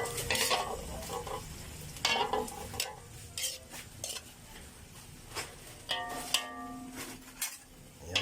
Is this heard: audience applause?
no